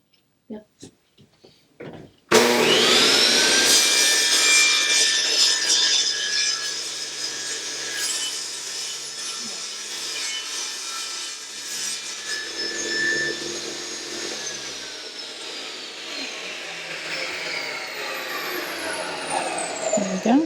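Freehand hand-sawing through a piece of scrap wood, a steady, loud rasping stroke that runs close up for most of the stretch after a few brief knocks at the start.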